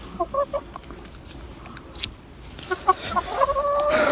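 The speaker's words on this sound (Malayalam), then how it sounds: "കോഴിക്ക് തീറ്റോട്ട് കൊടുത്ത്." Hens and a rooster clucking near at hand while being fed fresh wheat, a run of short scattered clucks and calls that builds into a denser chorus toward the end, with no talk.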